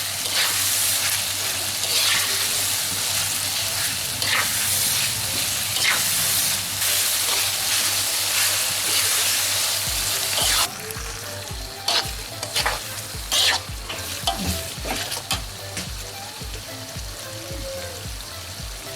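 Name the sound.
beef dendeng frying in oil, being stirred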